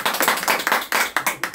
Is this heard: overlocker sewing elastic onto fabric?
no